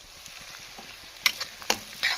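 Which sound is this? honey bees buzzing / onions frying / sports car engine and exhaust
onions frying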